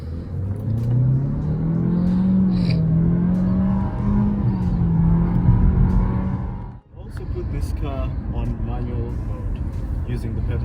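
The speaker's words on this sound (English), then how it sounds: "I'm gonna demonstrate to you the 0 to 100 km/h time for this car." A Nissan Qashqai 1.3T Acenta accelerates hard from standstill, the engine note climbing steadily in pitch, then a gear change and renewed pull. The sound is loud and close from inside the cabin.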